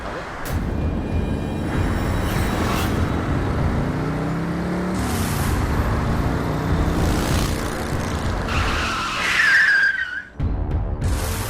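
Motorbike ridden recklessly in a street, engine noise running throughout, ending in a sharp high tyre squeal of a skid before a brief drop, with voices talking underneath.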